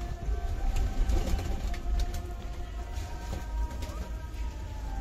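Pigeons coo softly among a busy outdoor background, with faint ticking and distant noise and low murmuring underneath.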